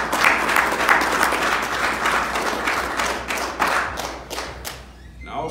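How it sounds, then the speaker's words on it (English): An audience at a religious gathering gives a steady round of applause, many hands clapping together at close range for about five seconds before the sound thins and fades near the end. "Let's give him a round of applause."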